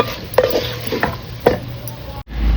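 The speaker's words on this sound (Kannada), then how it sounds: "ಈಗ ಇದನ್ನ ಒಳ್ಳೆ ಮಿಕ್ಸ್ ಮಾಡಬೇಕು ನೋಡಿ" A spoon stirs tender-cooked ivy gourd in a pan, making a few close scraping strokes with soft sizzle between them before a short silence.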